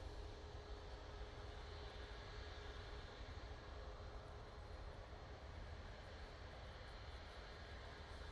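A Swiss airliner lands at Manchester Airport: a steady, even jet roar spreads across the whole stretch, fairly faint and distant, with no voices.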